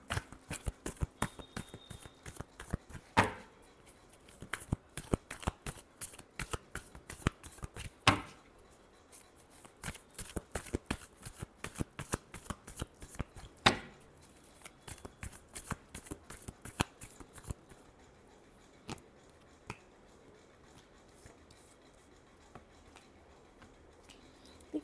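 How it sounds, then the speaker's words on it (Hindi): Playing cards are shuffled for a tarot-style reading, a long run of crisp riffling bursts and snaps, close and fairly loud, with slower scattered flicks toward the end and no talking. "last shuffle"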